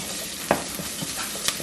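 Shredded coconut sizzles steadily in a pan while being stirred, with a few scraping knocks of the spoon against the metal standing out over the constant frying hiss.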